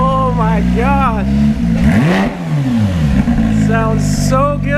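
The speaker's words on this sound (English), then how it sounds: "It's got the crackles and pops at the end." Loud Porsche GT3 fitted with a titanium exhaust, revved hard in repeated rising and falling blips with a sharp drop near the middle and crackles at the ends of the revs, while people talk over the engine.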